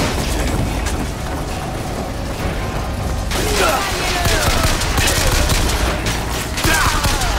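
Dense gunfire rattles continuously in the video game BioShock Infinite, loud rapid bursts layered over game sounds, with a voice talking briefly over the action.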